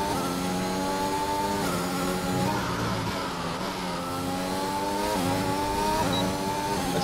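Several race cars in a racing video game, set at a Russian Grand Prix, rev loudly in layered overlapping engine whines that rise and fall steadily throughout, close and continuous with no talk.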